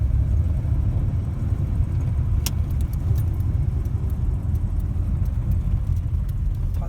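A 1946 Hudson Commodore 6 with a three-speed manual gearbox and an electric fuel pump pulls away in first gear, its engine giving a steady low rumble throughout, with a few brief metallic clinks partway through.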